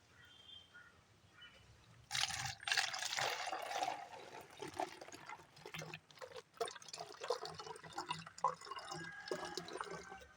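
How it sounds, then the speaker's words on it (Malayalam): Water poured into a one-litre plastic bottle, a faint quiet start followed by a splashing, gurgling stream and trickling drips as the bottle fills, close and alone. "വെള്ളം നിറക്കുക."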